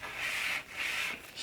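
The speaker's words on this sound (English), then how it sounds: "I will wipe this down." Two rhythmic rubbing strokes across a wooden dining table between finish coats during a refinishing job, a close, steady hiss of cloth or sanding pad on wood with a brief pause between passes and no talking.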